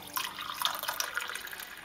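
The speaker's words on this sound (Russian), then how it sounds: "И добавляю 2 стакана горячей воды." Hot water, around 70-75 degrees, poured by the glass into flour for homemade lavash dough, giving a close, splashy trickling sound with small drips, alone and without talk.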